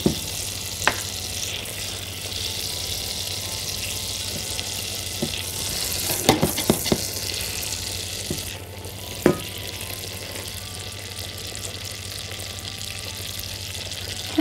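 Steady sizzling of about three spoons of butter frying in a hot pan, with a few sharp clinks and scrapes of a utensil stirring, continuous and close.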